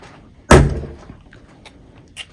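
A single sharp hammer strike knocks a loose part on a 3D printed magnet dispenser, one loud impact followed by a short decay and a couple of faint ticks.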